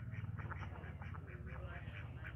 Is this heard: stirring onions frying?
no